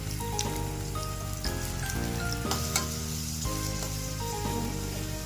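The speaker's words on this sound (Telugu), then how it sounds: "అది ఫ్రై అయినంత వరకు వేయించుకోవాలి" Onions fry in a pan alongside cinnamon and cloves, giving a steady, close sizzling hiss that runs the whole time beneath background music.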